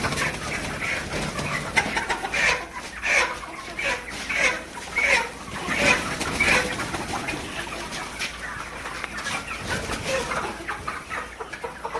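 Desi chickens cluck repeatedly at close range in a rural home setting, with a series of short rhythmic clucks over a quiet background and faint voices now and then.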